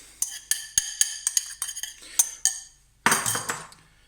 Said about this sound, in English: we've got our melted butter, which we're going to mix in